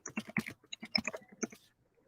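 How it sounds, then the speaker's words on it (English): Typing on a computer keyboard while filling out a tax form: a short, close run of crisp key clicks in an uneven rhythm that trails off into quiet. "Did you see me typing that?"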